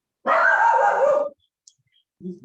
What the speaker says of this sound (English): Oh, now all the dogs are going to go off.